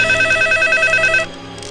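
A telephone rings with a bright, steady electronic tone for about a second before cutting off abruptly, leaving a quiet room hum.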